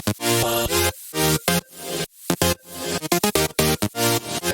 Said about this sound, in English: I'm going to show you the chords as I have them played with the kalimba